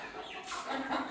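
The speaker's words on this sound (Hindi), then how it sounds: "ये अपने मुर्गे भाई" Chickens cluck and murmur softly close by, a continuous low fowl chatter with a few slightly louder calls rising near the end.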